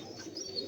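Sirazi pigeon cooing softly, a low murmuring call building slightly toward the end, close by and faint against quiet surroundings.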